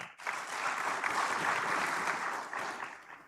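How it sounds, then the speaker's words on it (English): Audience applause at a regional energy research and innovation conference, a sustained wash of many hands clapping that swells quickly, holds steady for about three seconds, then tapers off. "let's clap for her"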